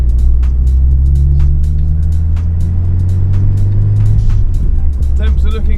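An old car drives along an open road, its engine a loud steady droning rumble close by, with a faint shift in pitch near the end and occasional small clicks and rattles.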